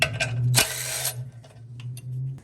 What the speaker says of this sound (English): I'm going to disconnect this 12 millimeter bolt that holds the parking brake bracket to this extension